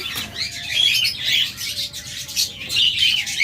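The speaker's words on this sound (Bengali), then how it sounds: "তারপর এখানে আরেকটা জোড়া ককাটাল রয়েছে" A pair of cockatiels chirps in bursts of bright, high calls, fairly close, with a steady low hum of room noise underneath and no talking.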